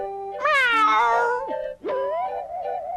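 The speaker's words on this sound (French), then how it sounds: "Et ça, c'est un chat. Il fait miaou." A cartoon cat meows in a drawn-out, wavering cry, followed by a second rising meow that settles into a sustained tone, loud and close.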